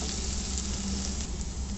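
French beans and other vegetables for a chicken sizzler fry in a hot pan with a steady, continuous sizzle, close and even throughout, with no talking.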